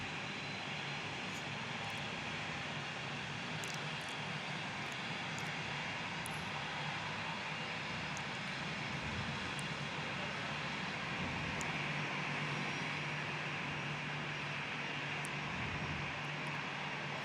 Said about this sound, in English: this Qantas Link A320 Fokker 100 that's now rolling via the intersection Delta for their departure